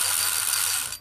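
A spinning shaft inside a speedometer gives off a loud, steady mechanical whir with a ratcheting, geared edge that runs unbroken for about a second, then cuts off abruptly.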